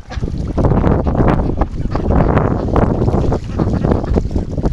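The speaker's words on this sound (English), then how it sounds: "Well, the wind is so strong right now," Strong winter wind buffets the microphone in a continuous, loud roaring rumble with gusting surges across an outdoor duck-breeding yard; no speech.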